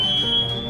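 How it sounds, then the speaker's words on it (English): Smoke alarm shrieking indoors after a fire was lit in a fireplace, a steady piercing high electronic tone with a dog howling faintly beneath it. "Smoke alarms are going off."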